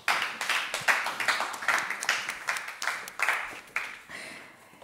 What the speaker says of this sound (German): Dann einen großen Applaus an dieses Panel von unseren Zuhörern hier vor Ort.